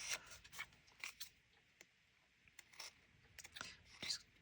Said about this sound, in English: I'm not cutting the paper. I'm only cutting the little flyaways off.